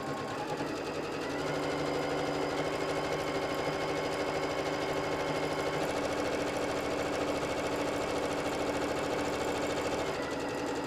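A sewing machine stitches a fabric microwavable bowl cozy, running as a continuous, loud mechanical whir and hum close by for the whole stretch without pause.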